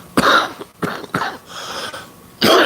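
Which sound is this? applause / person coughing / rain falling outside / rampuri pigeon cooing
person coughing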